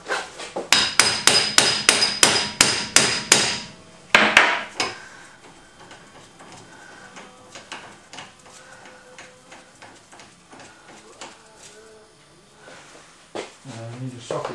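Metal hammer blows striking a TVR Griffith's front suspension to split a ball joint, about ten sharp, evenly spaced loud clanks followed by quieter tapping and tool clatter, with someone speaking briefly.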